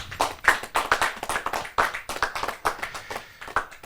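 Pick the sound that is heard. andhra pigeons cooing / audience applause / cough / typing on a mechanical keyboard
audience applause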